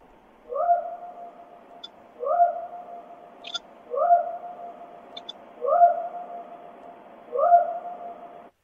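Whoop calls in a Bigfoot research field recording: five drawn-out, rising hooting whoops repeated at even intervals over a quiet background, with a few faint short chirps between them.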